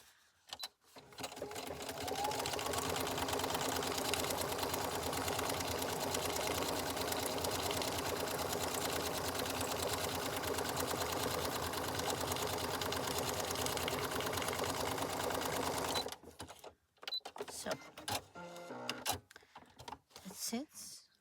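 A sewing machine stitches a waxed paper envelope in a long continuous run of rapid, even whirring, then stops; a few shorter bursts and handling clicks follow, with a voice speaking near the end.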